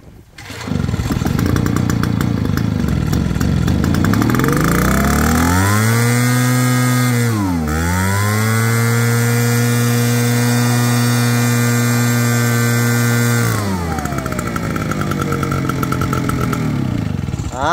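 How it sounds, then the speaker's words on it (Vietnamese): A 22-litre backpack sprayer's small two-stroke engine, used for spraying fertilizer and lime, runs loud and close for the whole stretch, revving up and dipping briefly before settling at a steady high idle, then easing down near the end. "Máy nổ rất ngon nha, giờ phun phân phun voi rồi rất là ok luôn."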